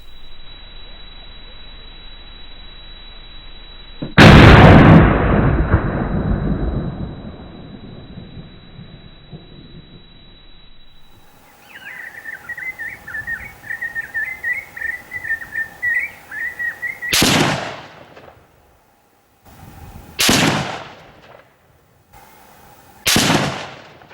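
Rifle shots fired downrange at a 100-yard target, with and without a Grizzly muzzle brake: one loud close blast early on, then after a stretch of faint birdsong, three more sharp reports spaced a few seconds apart.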